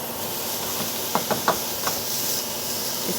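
Bacon sizzling in a Dutch oven, a steady close hiss with a few soft knocks and taps from the pot as it settles.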